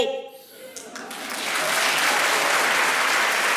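Applause swells from a few claps into loud, sustained clapping from a large audience, with a voice briefly audible at the start.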